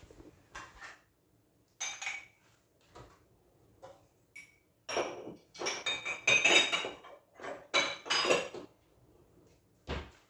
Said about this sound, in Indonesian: lalu ini saya membereskan piring-piring yang sudah kering ya